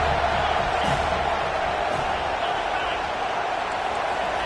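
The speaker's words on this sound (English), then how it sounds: "Decibels rising as the crowd gets behind this defense on third down." Stadium crowd at an American football game roaring behind the defense on third down, a dense, steady wall of cheering that holds loud and sustained throughout.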